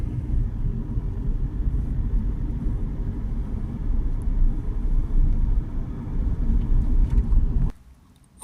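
An Audi A3 1.6 diesel with a particulate filter pressure sensor fault hums along on an ordinary drive, a steady low engine and road rumble heard from inside the car, cutting out abruptly near the end.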